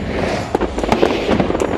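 Fireworks crackle and pop in a quick burst during a nighttime show in Miami, with several sharp, loud bangs clustered over a dense, rumbling wash.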